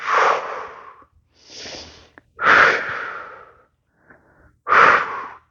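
Deep breaths during a postnatal yoga exercise for abdominal separation: four slow, airy inhales and exhales, close and fairly loud, with a faint sniff between them.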